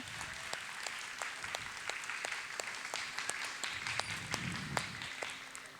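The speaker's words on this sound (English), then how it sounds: "I think she deserves a big round of applause for a successful roll-up." An audience at a glassblowing demonstration applauds, a steady scatter of many claps at moderate distance, fairly quiet and even throughout, with a faint low hum beneath.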